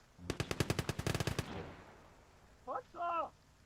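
A machine gun in the Gates of Hell video game fires one rapid burst of about a dozen sharp, loud shots. It ends abruptly, and a short voice follows.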